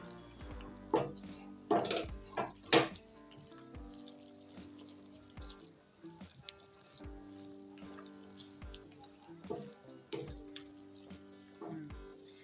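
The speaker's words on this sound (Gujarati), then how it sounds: "આપણે બધો મસાલો મિક્સ કરી લેશું" Scraping and clinking of a utensil stirring spices into onions in a pan, a few quick strokes early on, then lighter intermittent taps and scrapes over a quiet background.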